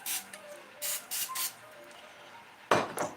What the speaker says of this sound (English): Just put a little spray on there.